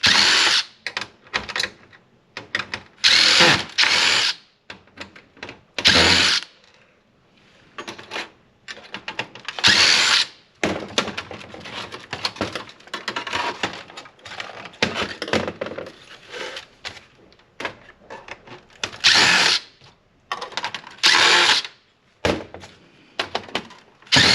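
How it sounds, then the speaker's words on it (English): A power drill backs screws out of a projector being taken apart for e-scrap, in repeated short whirring bursts broken by pauses, clicks and clunks of parts and hardware being handled, close and fairly loud with no talking. "let's get some more screws out of the way"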